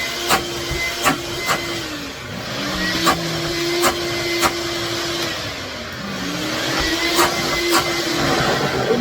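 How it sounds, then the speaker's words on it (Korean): A Boheung twin-motor commercial vacuum cleaner used at a car wash runs steadily and loudly, its motor pitch sliding and wavering as the suction is blocked and released, with sharp periodic clicks throughout. "청소기에 테스트 간단하게 하면 이러잖아요"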